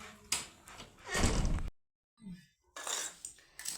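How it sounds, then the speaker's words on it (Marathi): A door swings and bangs shut with a couple of knocks and rattles, followed by a brief silence and more shuffling handling noises nearby. "आता घेतो दरवाजा लावून"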